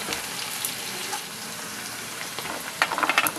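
Onions and lentil dumplings (bori) frying in a pan give a steady, close hiss and crackle, with a few brief clinks and stirring scrapes near the end.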